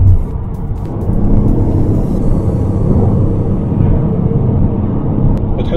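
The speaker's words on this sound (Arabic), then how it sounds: "بتحس صوت الميتور عندك؟" A Ford Focus with a three-cylinder engine running inside the cabin, a steady, loud low hum and rumble that holds even throughout with no clear revving.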